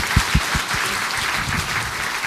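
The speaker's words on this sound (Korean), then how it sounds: "우리 박수로 하나님께 영광을 올려드리겠습니다." A church congregation claps together at a national repentance prayer gathering, a dense steady applause filling the room, with a few sharper hand claps standing out near the start.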